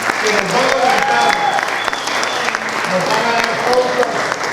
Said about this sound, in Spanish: les pido encarecidamente un gran aplauso de bienvenida a nuestros maestros